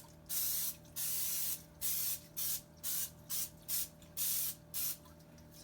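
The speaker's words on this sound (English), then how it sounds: "go ahead and spray it really quick with a little bit of grease spray" A cooking spray can hisses in eight short bursts, some longer than others, close to the microphone with brief silences between.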